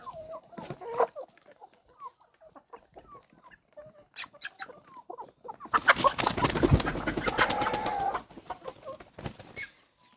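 Hens kept for laying eggs cluck and chatter close by, with a louder burst of flapping and squawking commotion midway before the calls settle again; no one speaks.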